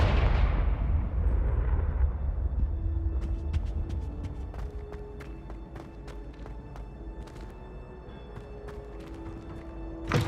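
A Confringo fire spell blast in Hogwarts Legacy, a loud low rumbling blast that slowly decays, followed by scattered sharp crackles and clicks from the game scene.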